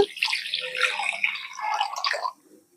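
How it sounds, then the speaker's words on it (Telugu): Water is poured into flour to knead dough for kajjikaya, a steady, close splashing trickle lasting about two seconds before it stops. "ఇంకా ఇప్పుడు మనం నీళ్లు పోసుకొని ఇది"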